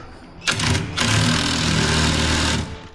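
An impact gun whirs in two short bursts while driving a bolt on a motorcycle saddlebag guard, a sharp mechanical spin that runs close and loud for about two seconds before cutting off.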